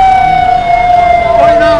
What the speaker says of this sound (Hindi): वो झंडा चौक से गुजर रही है सायरन बजाते हुए।